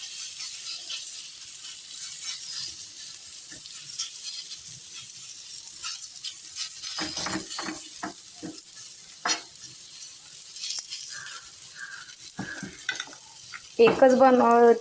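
Steady sizzling of small vegetable pancakes frying on a griddle, with occasional scraping and clinks of a utensil, no talking.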